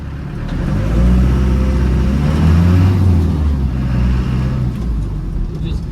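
A 1991 Land Rover Defender 90 with a 200Tdi diesel engine drives along, a steady low engine drone and road rumble, loud and close, holding fairly even with slight rises in revs.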